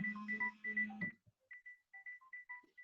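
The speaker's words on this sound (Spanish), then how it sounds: "está sonando el teléfono porque no lo he puesto en silencio" A new mobile phone rings in a quiet room, its melodic electronic ringtone of rhythmic beeping tones playing loud and clear, then a pause, then the tune returning more softly, with no talk.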